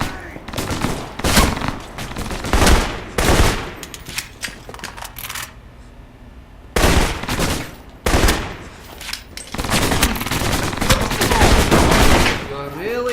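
Rapid bursts of automatic gunfire and single shots crack through an Alpha Protocol firefight, loud and close, coming in dense volleys separated by brief lulls.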